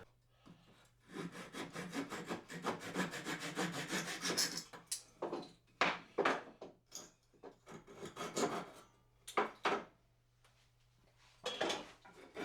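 A handsaw cuts through a block of wood while making tenons, with rapid rasping back-and-forth strokes up close, first in a steady run and then in shorter separated bursts.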